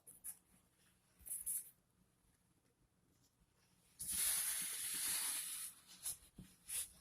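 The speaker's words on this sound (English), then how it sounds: "I'm liking that spray bottle way better than how I did it originally." Short bursts of hissing mist from a spray bottle wetting paintable wallpaper, with one long sustained spray in the middle followed by a few quick squirts, close up and fairly quiet, no talking.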